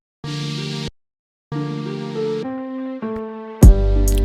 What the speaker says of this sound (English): So this is the regular song with dynamics.